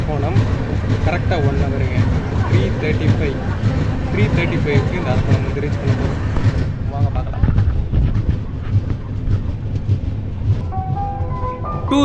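An Intercity Superfast Express train runs between Chennai Central and Coimbatore, a loud continuous rumble and rattle heard from on board with rolling low-end noise throughout.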